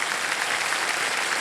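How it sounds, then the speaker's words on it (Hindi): Studio audience applause on the KBC quiz show set, a short dense burst of steady clapping welcoming guests, even in loudness throughout. "एक बार जोरदार तालियां हो जाएंगी।"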